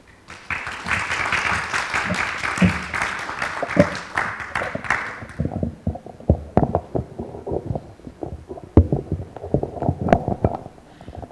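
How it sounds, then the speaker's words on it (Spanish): An indoor audience applauds loudly to welcome a minister at a launch event for a higher-education platform, a dense wash of clapping that thins after about five seconds into scattered, fading claps. "la recibimos con un fuerte aplauso."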